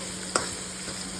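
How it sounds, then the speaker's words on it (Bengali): Grated onion and cumin seeds fry in oil in a pan for a fish curry, giving a faint, steady sizzle with one brief clink of a utensil stirring. "কড়াইতে যা তেল ছিল আমি ওই তেলেই একটুখানি জিরা দিয়ে দিলাম, আর ঘষে রাখা একটি পেঁয়াজ তেলে দিয়ে দিলাম"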